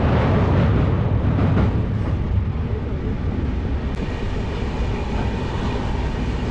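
Kanchankanya Express passenger train running on rails on the Kolkata to Bhutan route, a loud steady close rumble with continuous wheel noise throughout and no talking.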